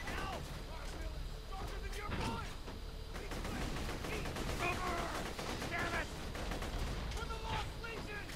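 A fast-firing gun blasts in rapid bursts during a Borderlands The Pre-Sequel shootout, with dense repeated shots and impacts running through the whole stretch at moderate level and a voice talking faintly underneath.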